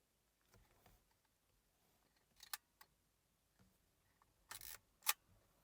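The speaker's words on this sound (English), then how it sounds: "I'll just let you hear the shutter." Quiet mechanical shutter clicks of a Pentax 17 half-frame 35mm film camera, a few soft isolated snaps spaced apart in an otherwise hushed setting.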